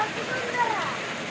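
Steady early morning rain, a soft continuous hiss of drops falling outdoors, fairly even in level with no distinct individual impacts.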